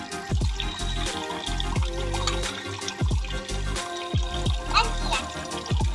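Dishes being washed by hand under running water, with splashing trickles and repeated clinks of utensils and pots knocking together at close range.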